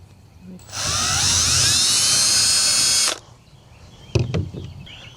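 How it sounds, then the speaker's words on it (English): A high-pitched electric drill whines steadily for a couple of seconds, drilling a small hole in a goose egg, then cuts off, followed by a few brief clunks and handling noises. "we're going to drill a small hole in the bottom of it"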